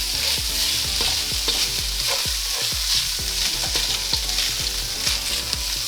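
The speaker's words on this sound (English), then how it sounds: "And then mix in and fry for 1 minute." Thai red curry paste sizzles loudly in a hot pan while being stirred, a constant bright frying hiss overlaid with regular scraping thuds of the utensil against the pan, close and continuous with no talking.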